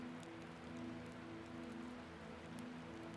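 Rain falls on a lake at night as a soft, steady hiss of dense drops with scattered faint patters. The sound is quiet and even throughout, with a low, gentle tonal hum underneath.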